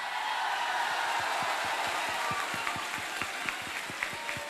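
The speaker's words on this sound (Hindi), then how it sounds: "जरा एक बार जोरदार तालियों में स्वागत करो ब्रजेश महेश्वरी सर का।" An audience applauds at a NEET results celebration, a dense, sustained wash of clapping from a large crowd with distinct sharp claps standing out near the front.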